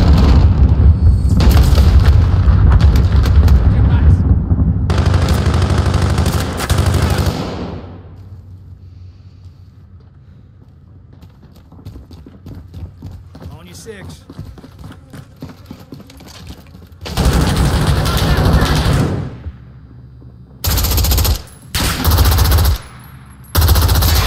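Gunfire from the video game Modern Warfare (2022): long, loud bursts of automatic fire and booms that stop for a quieter stretch, then return in several short, heavy volleys.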